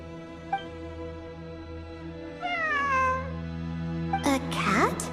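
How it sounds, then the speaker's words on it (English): Cat meowing in a video game, a few drawn-out rising and falling meows over a steady tonal game-music background, with a louder, busier call near the end. "It really is a cat."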